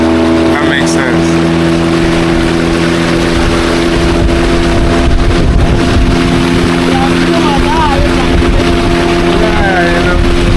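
Engine of a motorized canoe on the water on the way to Nzulezu, Ghana, droning loudly and steadily throughout, with wind buffeting the microphone.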